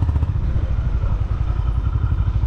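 A Honda CB350 RS motorcycle engine on a test ride gives off a steady, close, throbbing low rumble with a pulsing beat that carries on without a break. No voices are heard.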